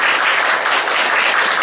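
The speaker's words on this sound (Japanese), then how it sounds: "拍手。" Audience applause fills a results announcement at a competition event, a dense, steady wash of many hands clapping close and loud throughout, with no voices over it.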